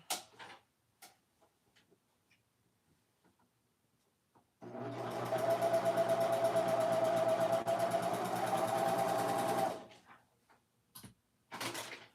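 A sewing machine stitches dress seams in one steady run of about five seconds, a close whirring hum, with scattered clicks and handling knocks before and after.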